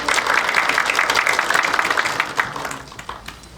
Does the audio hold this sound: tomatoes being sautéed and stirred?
no